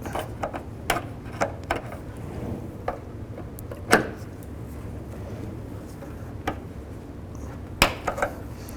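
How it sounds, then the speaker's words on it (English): A small flathead screwdriver prying a little spring clip off a front lift support strut on a 2005-10 Jeep Grand Cherokee: sparse, sharp metallic clicks and ticks spread irregularly over several seconds, close by, over a faint steady background. "using a pick or a small flathead screwdriver, you want to get in behind this little spring clip, pry that out"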